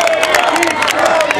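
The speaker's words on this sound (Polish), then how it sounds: "Jeszcze raz gorące brawa, pożegnajmy ich." Concert crowd applauding and cheering for a Polish blues band at an outdoor show, a dense, steady wash of clapping and shouts throughout, with a voice briefly audible above it.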